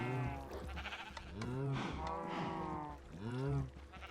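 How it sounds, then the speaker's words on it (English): Sheep in the Minecraft video game bleat close up, three or four wavering bleats in a row, loud and clear. "for all the pain in the arse that these dumbass sheep are"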